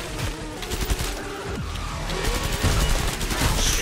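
Automatic gunfire roars in Killing Floor 2 on the Biotics Lab map, the SWAT weapon unloading as a dense, continuous stream of rapid shots that stays loud and steady throughout.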